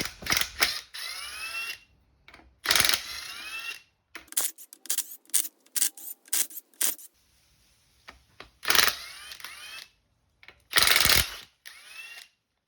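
A ratchet wrench turning out the bolts on an 8.8 differential cover during a mini spool install, heard as close bursts of rapid clicking ratchet strokes separated by short silences and occasional metallic handling sounds.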